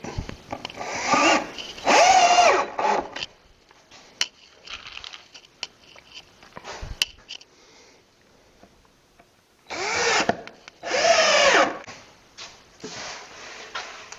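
A power drill whirs in several short bursts driving screws into treated wood, pausing between runs, with scraping and handling noises in the quiet gaps.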